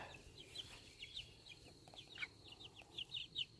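Chickens, kept as backyard pets, cluck and chirp intermittently in a series of short, fairly close calls over a quiet, steady background.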